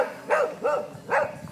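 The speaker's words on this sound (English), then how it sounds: "There's my dog Shiner." A farm dog barks three times in quick succession at moderate distance, each bark short and sharp with brief gaps between them, with no voices over it.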